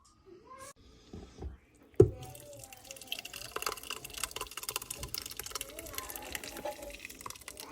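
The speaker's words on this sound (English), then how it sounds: "Then I'm gonna pour this on top of my chuck roast." Liquid is poured over a chuck roast in a pressure cooker, a soft steady splashing and trickling that starts after a sharp knock and continues to the end, close and moderately loud.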